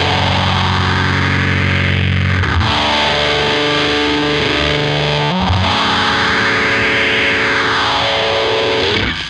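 Electric guitar chords played through a Big Muff fuzz pedal, dense saturated strums that ring out in long sustained washes with a couple of chord changes, loud and close, no voices.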